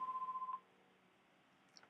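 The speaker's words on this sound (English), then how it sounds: "press the enter key on my keyboard and begin dialing." Softphone dialing tones: a rapid series of about eight short, even beeps at a steady rhythm, followed by quiet hiss and a couple of faint blips.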